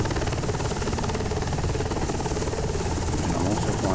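An SH-60 Seahawk helicopter in a flight simulator game gives a steady, loud, continuous rotor and engine drone with a low buzzing throb that runs unbroken from start to finish.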